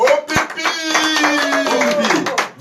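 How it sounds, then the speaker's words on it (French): An audience at a live show claps in quick, sharp bursts, close and fairly loud, while a voice carries on over the clapping. "On l'applaudit très fort."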